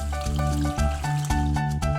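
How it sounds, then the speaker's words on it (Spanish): Cartoon water sound for rinsing hands, bubbly liquid blips and trickles set over a bouncy musical backing in a children's animation. "Por último, enjuágate con mucha agua."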